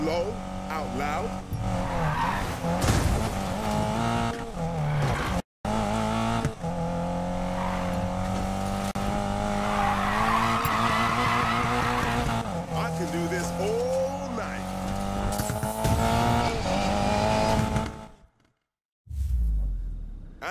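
Engines roar while tires squeal and skid in long drawn-out drifting screeches in Need For Speed Payback, with a voice talking over the racing action and a brief dropout.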